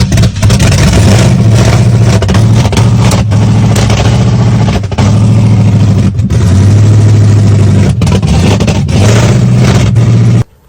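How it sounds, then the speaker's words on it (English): A 1987 Firebird Trans Am, started after about 20 years of sitting, runs loud and close with a steady rough idle and occasional revs, a heavy engine drone continuing throughout before cutting off at the end. "here's me starting the car for the first time in a while"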